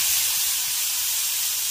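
Washed, drained ash gourd pieces hitting hot oil in a pan, a loud, close, continuous hissing sizzle that holds steady throughout with no voices.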